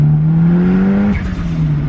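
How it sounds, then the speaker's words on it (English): A dyno-tuned Mitsubishi Evo 5 with a 4G engine revs with a steady, rising drone, then drops off as the throttle closes and settles back into a lower hum. The sound is loud and close. "the timing that he pulled on decel does make it pop quite a bit"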